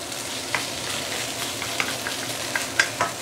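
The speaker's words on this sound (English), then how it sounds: "continue frying the fish bone for a while. Everything's still very high heat right now" Fish bones frying in a pan over high heat give a steady, loud sizzle close by, broken by scattered sharp crackles and pops.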